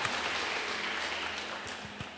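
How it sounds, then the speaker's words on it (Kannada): A church congregation claps after worship, a steady dense wash of hand claps filling the hall at moderate level from start to finish, with no speech over it. "ಇಬ್ಬರಿಗೊಂದು ಜೋರಾಗಿ ಚಪ್ಪಾಳೆ ತಟ್ಟಿ."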